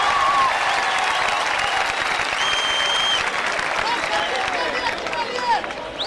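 Crowd applause for award winners at a corporate SmartValue team event in Gurgaon. Steady, loud clapping fills the hall, with a few thin whistles and voices mixed into the dense texture.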